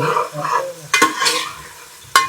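A cabbage and chana dal curry cooks in a pan, with a soft sizzle under two sharp, close scrapes of a spoon stirring against the metal.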